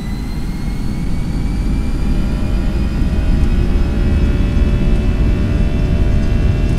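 Airbus A320 jet engines at takeoff power in the X-Plane 11 flight simulator, a loud continuous roar with a rising whine as the aircraft accelerates.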